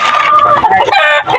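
Rooster crowing close and loud in a backyard setting, one full strained cock-a-doodle-doo call with a wavering, harmonic-rich tone that rises and breaks before tailing off.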